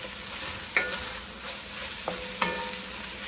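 Rice toasting in a pan with spicy Italian sausage, a steady close sizzle with scraping stir strokes at intervals, no voices.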